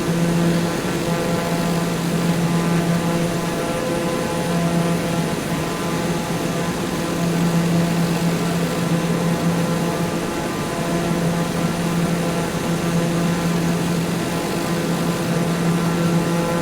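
A propeller airplane flies in to land at Lukla, its engine droning loud and continuous with a steady hum and slight wavering pulses throughout.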